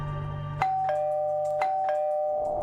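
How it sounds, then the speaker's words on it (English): An apartment doorbell rings twice in a clear ding-dong pattern, close and loud, each chime ringing out briefly over a steady low hum. "I rang the doorbell, just like I did the last time."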